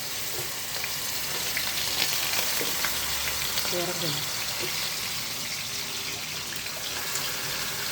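Onion paste and green chillies fry in oil with a dense, continuous sizzle, loud and close, while faint sounds of handling in the kitchen sit underneath.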